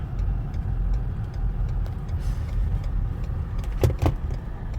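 A car driven by a taxi driver in city traffic gives a steady low engine and road rumble throughout, with a couple of brief faint clicks near the end and no talk.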